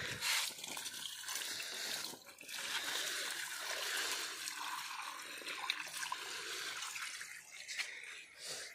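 Water pouring from a hand pump at a government school in Chittarbigha, Nalanda, a continuous close splashing and gushing that pauses briefly once and then resumes, with faint voices in the background.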